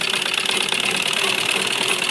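A sewing machine runs steadily at close range, stitching along the cut edge of fabric for a deep-neck blouse, with a continuous whirring hum and no pauses.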